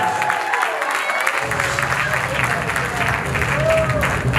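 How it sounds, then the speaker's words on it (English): Audience applause at a gospel comedy night, a steady dense wash of clapping from a large crowd that swells slightly after the first moment and continues throughout, with some voices mixed in. "Let's give our mothers a big round of applause."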